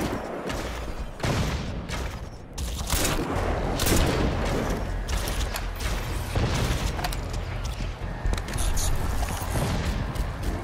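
Alien mortar batteries in Crysis 2 Remastered fire in a loud, sustained barrage, with booming blasts and mechanical clanking layered over dense combat noise.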